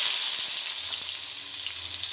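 Chopped garlic frying in a little oil in a wok, a bright, even hiss of sizzling heard close and steady for a couple of seconds, with a few faint low knocks and no talking.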